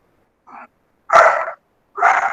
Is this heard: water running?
no